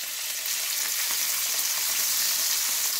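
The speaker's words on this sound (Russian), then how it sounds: "И обжариваю рыбу" A thin fish fillet fries skin side down in a hot pan, giving a steady, close, bright sizzle that holds evenly throughout with no talking.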